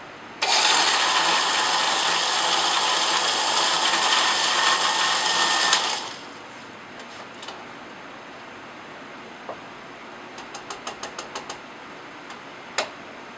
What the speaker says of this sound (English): so we will be blending this for 5 seconds